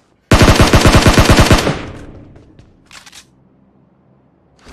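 Loud, close burst of rapid automatic gunfire in a mobile shooter video game, a fast even rattle lasting about a second and a half before fading into faint echoes and a few distant single shots, with no talking.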